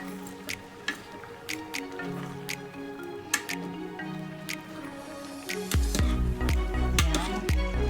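Dinengdeng, an Ilocano vegetable stew with shrimp, stirred in a pot: scattered light clicks and taps give way to a run of wet, squelching stirs near the end, fairly close.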